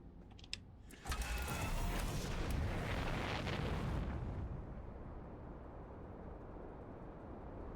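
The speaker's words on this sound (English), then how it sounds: "that was the sun exploding" The sun going supernova in the video game Outer Wilds, a sudden loud, roaring rumble that swells after a brief click, holds for a few seconds, then fades to a low, steady drone with no talk.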